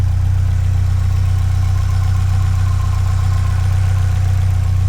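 A Subaru STi engine idles steadily and loudly, a continuous low rumbling drone with a constant even pulse and no voices over it.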